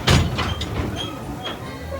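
Dollywood train number 192 rumbles and rattles as it begins moving, with a thump at the start and faint squeaks over the low, steady roll.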